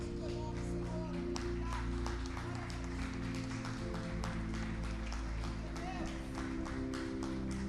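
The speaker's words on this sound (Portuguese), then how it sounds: "Aplauda o Senhor Jesus bem forte" A church congregation claps in a continuous run of sharp, closely packed claps over a low steady hum, keeping an even level throughout with some voices faintly mixed in.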